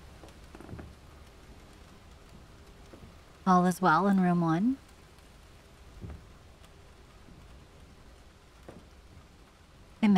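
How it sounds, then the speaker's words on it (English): Soft, steady rain ambience from the Ten Bells spot-the-difference video game, with faint ticking drops throughout and a brief spoken line partway through. "We've got the rain sound."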